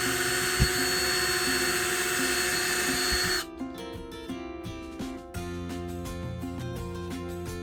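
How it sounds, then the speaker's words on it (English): A power drill whines at high speed, drilling into PVC pipe with a bit just smaller than a galvanized nail, then slows and stops briefly before spinning up again at a lower, steadier pitch. "I'm going to take a drill bit that's just barely smaller than this galvanized nail"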